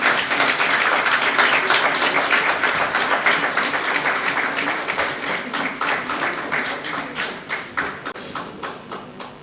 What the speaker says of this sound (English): Ladies and gentlemen, the applause should continue.